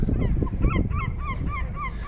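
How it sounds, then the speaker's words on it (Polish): Seagulls cry over Jastarnia harbour on the Hel Peninsula by the Baltic Sea, a series of repeated short calls at a fairly regular pace over a low rumble of harbour background noise. "krzyk mew"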